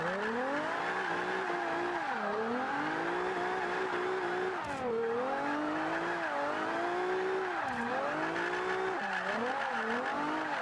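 Front-wheel-drive Toyota Celica drift build in Forza Horizon 5, engine screaming near the limiter with rising and falling rev sweeps and tyre squeal throughout, loud and continuous with no talking.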